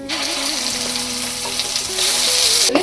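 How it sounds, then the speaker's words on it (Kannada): Ground masala paste with curry leaves and turmeric frying in a little oil over medium flame, a constant close crackling sizzle with faint stirring, no voices. "ಸ್ವಲ್ಪ ಎಣ್ಣೆಯಲ್ಲೇ ಇದು ಮಸಾಲೆ ಫ್ರೈ ಮಾಡ್ಕೋಬೇಕು"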